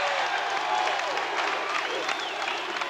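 A packed basketball arena crowd roars at the 1984 UW vs UCLA game: a dense, steady wash of cheering and applause, loud and continuous throughout.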